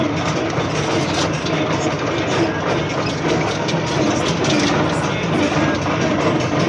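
A tractor engine runs loud and steady throughout while heading out to cultivate a soybean field, a constant heavy rumble with a rattling drone, close by and uninterrupted.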